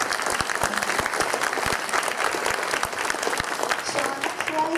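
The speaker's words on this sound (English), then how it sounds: "Another round of applause for Shi Yin." Audience applause at a Peking opera event, many hands clapping in a lively, continuous patter with sharp individual claps standing out and some voices murmuring underneath.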